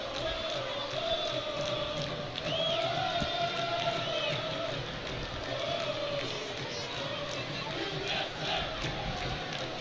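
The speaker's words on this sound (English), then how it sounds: "You hear the chants going." Stadium crowd at a USA vs Scotland women's soccer match, with a sustained chant and general crowd roar rolling on for several seconds, somewhat distant and steady.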